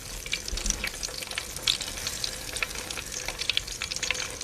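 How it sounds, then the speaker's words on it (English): Battered cheese frying in hot oil, a steady close crackle and sizzle with scattered sharp pops and spits throughout, no talking. "fry it in some hot oil"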